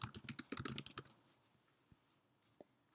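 Quick, close typing on a computer keyboard for a story title, a dense patter of key clicks lasting about a second before it stops, followed by two faint isolated clicks.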